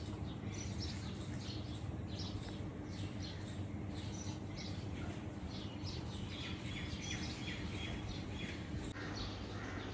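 Sparrows chirp in a busy, repeated twitter on a summer evening, with brief overlapping calls over a low steady background hum and no voices.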